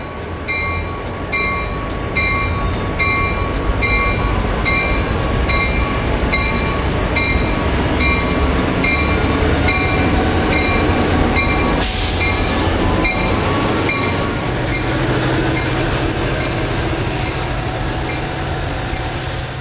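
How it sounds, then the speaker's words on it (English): An N scale model train with a custom-painted locomotive and caboose runs on a switchback layout, its wheels producing a close, steady metallic rolling whir with regular faint clicks and a brief squeal midway. "The upper switch will now be thrown so the train can continue on its way."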